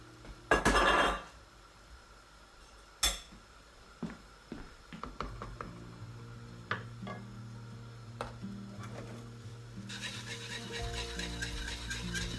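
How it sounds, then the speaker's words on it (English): A spoon clinks and scrapes against a cooking pot while kadi is stirred over a low flame. The sharp metallic taps are scattered and fairly faint, with a brighter clattering stretch near the end. "Keep stirring."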